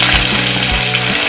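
Onions, curry leaves and chilli sizzle loudly in hot frying oil for a Tamil drumstick fry, a steady dense crackle with no talk.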